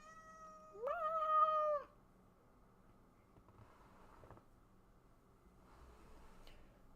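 A house cat gives one drawn-out, rising meow, close and clear, followed by quiet room tone with faint rustles.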